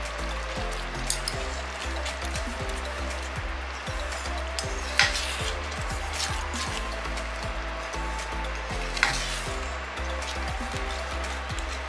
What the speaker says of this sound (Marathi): सो फ्रेश क्रीम ऍड केलेली आहे. व्यवस्थित मिक्स करून घेऊया.